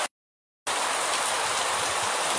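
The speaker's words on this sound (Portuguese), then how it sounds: "E a água caindo aí." Steady, loud hiss of heavy rain pouring down in Macaúbas, Bahia, starting abruptly after a brief silence and continuing without pause.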